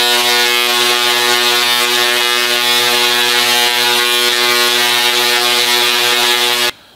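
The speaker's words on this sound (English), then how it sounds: "Let's fire it up and show you what it does." Tesla coil firing and discharging sparks into the air, a loud continuous buzzing drone with a harsh crackle that holds steady for about seven seconds before cutting off abruptly.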